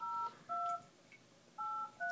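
Dialing tones from the Magic Jack calling app on an iPad, heard as four crisp, clear keypad beeps in two pairs separated by a short pause.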